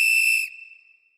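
A single shrill whistle tone, loud and close, holds steadily for about half a second and then trails off into a faint fading ring.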